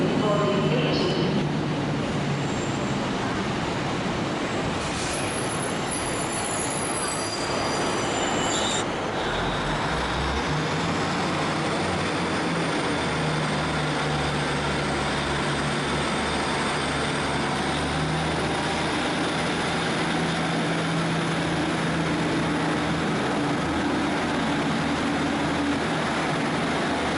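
Two Class 150 diesel multiple units pass through Manchester station, a steady rumble of engines and rolling wheels with brief high squeals early on, continuous and fairly loud throughout.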